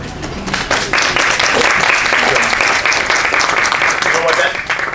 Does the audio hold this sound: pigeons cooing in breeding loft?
no